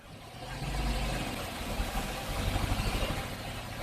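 A Dodge Durango engine with an 8HP70 automatic transmission, held at a steady 2,000 RPM in neutral, gives a continuous low mechanical drone that stays close and fairly loud, with slight rhythmic pulsing and no talk.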